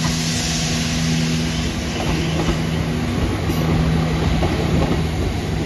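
A Transport for Wales class 153 diesel unit arriving at Crewe station, a steady loud rumble with a sustained engine hum and faint wheel noise, no voices.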